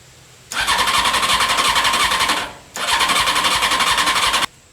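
Honda CBR 600 reverse trike engine cranking on choke, two long bursts of loud, continuous whirring and squealing separated by a short pause, close to the microphone.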